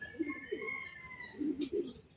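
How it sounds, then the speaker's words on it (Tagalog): Pigeons coo in soft, low, repeated phrases, a few murmured calls close by, with faint chirps and a thin tonal hum in the background. "At ito na pala yung ating ibang kalapati, oh."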